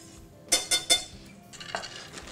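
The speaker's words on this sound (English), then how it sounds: "We'll bring it together with a whisk." A metal whisk clinks three times in quick succession against a pan of teriyaki sauce with ginger and Cabernet Sauvignon wine, followed by softer, continuous stirring and scraping.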